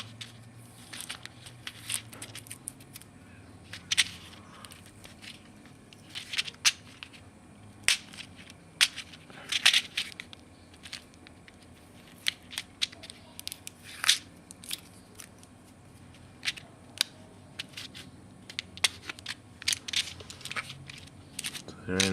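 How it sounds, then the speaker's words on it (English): Sticky tape being cut and peeled off an ammunition tray while loading .223 rounds: a series of sharp snips and crackly tearing bursts at close range, spaced irregularly over a quiet background. "Cut the sticky tape off."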